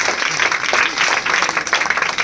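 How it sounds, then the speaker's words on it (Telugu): An audience claps for pregnant women at a village health talk, a brief burst of continuous, moderately loud applause from a crowd. "సో వాళ్ళందరూ ఒకసారి చప్పట్లు కొట్టున్నాం."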